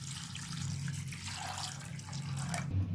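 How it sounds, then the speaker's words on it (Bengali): Water pours steadily into a pressure cooker holding soaked chickpeas, a continuous close splashing stream that ends with a brief clink. "তার সাথে জল দিয়ে দিচ্ছি"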